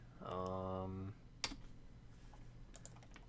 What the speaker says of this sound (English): I'm just typing stuff to the Discord.